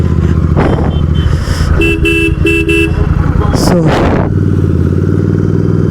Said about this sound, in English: It's a little bit revving.